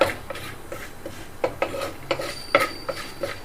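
Urad dal fries in a pan over low to medium flame while a spatula scrapes and clinks against the metal at an irregular pace, with a soft rustle of dry lentils beneath.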